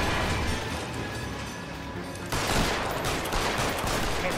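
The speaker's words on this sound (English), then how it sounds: "Who the hell are you shooting at?" Rapid gunfire in the video game LA Noire during a shootout aboard a train, a dense continuous volley of shots over rumbling train noise that grows louder midway, with no speech.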